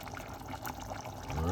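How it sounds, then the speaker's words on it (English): Vegetable stock pours into a soup pot of creamy vegetable soup, a soft, close liquid trickle that swells slightly toward the end under a quiet background. "We're gonna put one veg stock inside of it."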